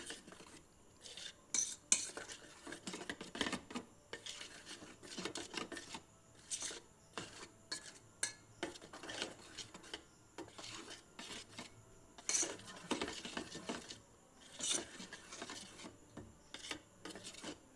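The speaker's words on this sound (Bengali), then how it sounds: "এরপর এটি ভালো করে মিশিয়ে নিচ্ছি" Mango and condensed milk being mixed in a bowl, with a steady scraping, rubbing stir of a utensil against the sides, repeated strokes in an uneven rhythm, close and fairly quiet.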